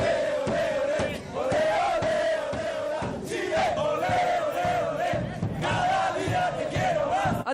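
Chilean football fans chant in loud unison, a crowd of voices singing a repeated rhythmic phrase that swells and dips slightly, sustained and close throughout.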